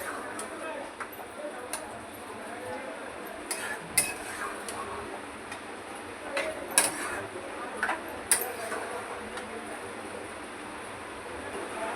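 Vegetable curry for a Kolhapuri veg dish is stirred in a pan, with intermittent metallic scrapes and clinks of a spoon against the pan over a low background, and a voice talking at times.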